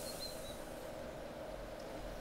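A steam train runs in a video game, a steady rumbling rolling drone with a faint high whistle-like tone early on, continuous and even throughout.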